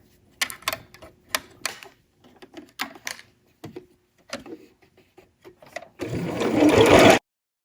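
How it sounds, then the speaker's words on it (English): A sewing machine stitches bias tape onto a fabric face mask in short, close bursts of rapid mechanical ticking separated by pauses, ending in one longer, louder run. "as I sew the bias tape, I'm definitely making sure to take my time"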